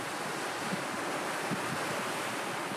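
Ocean surf at the seaside washes steadily with a broad hiss, while wind buffets the microphone throughout, with no voices heard.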